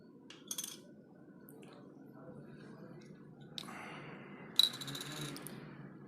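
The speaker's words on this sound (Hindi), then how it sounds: "तो सबसे पहले सिक्के को निकाल लेते हैं" A 1978 copper-nickel 50 paise coin is lifted out of its holder, giving a few faint, close metallic clinks and light handling rustles that come and go over a quiet background.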